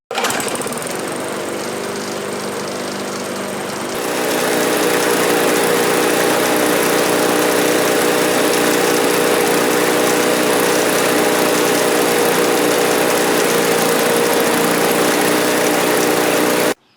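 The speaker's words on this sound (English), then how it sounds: "a Briggs powered lawnmower here that is smoking pretty heavily when it's running." A Briggs & Stratton-powered lawn mower that is smoking heavily runs loud and steady close by. It holds a constant engine drone that grows a little louder after a few seconds, then cuts off at the very end.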